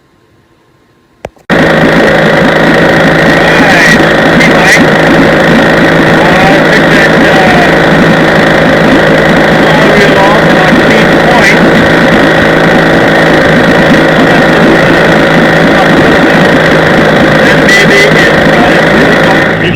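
A 1960 Evinrude 5.5 horsepower outboard motor starts with a brief burst, then runs steadily on Lake Martin with a loud, close, buzzing drone that holds constant to the end.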